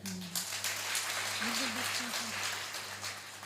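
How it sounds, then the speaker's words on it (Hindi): Soft, scattered applause rises from a congregation at a guru's spiritual gathering, blended under a low steady hum and drifting tonal sounds, with a voice over it. "ठीक है, ताली बजा दीजिए।"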